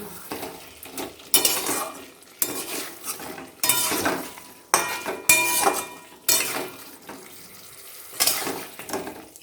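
A spoon scrapes and clinks in a pan as boiled potatoes are mixed into a simmering egg curry, with repeated rhythmic stirring strokes and faint sizzling underneath, close and fairly loud.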